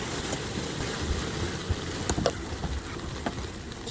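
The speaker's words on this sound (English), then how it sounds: "I don't know if you guys can hear, but it is pouring rain outside right now." Heavy rain pours steadily outside, heard from beneath a tent as a dense, even hiss with scattered louder drops and patters throughout.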